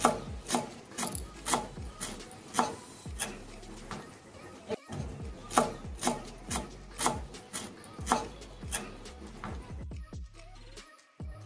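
Chopped coriander leaves being stirred into a Bengali bottle gourd and prawn curry (lau chingri ghonto), heard as a steady series of scraping, knocking spoon strokes against the pan in a regular rhythm, close and moderately loud, with no talking.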